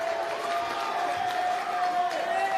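A crowd cheers and roars at a varsity high school basketball game between Brooklyn Collegiate and Eagle Academy, a steady wash of noise with some whistling tones, while a commentator talks over it.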